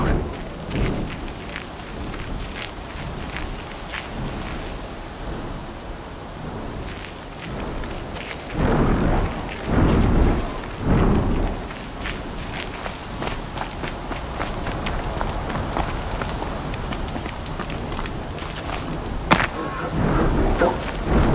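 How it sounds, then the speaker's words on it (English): A rainy thunderstorm in Horizon Zero Dawn brings a steady wash of rain with rumbling thunder surges in the middle. Footsteps crunch along underneath the whole time. "This storm's gonna back down before I do."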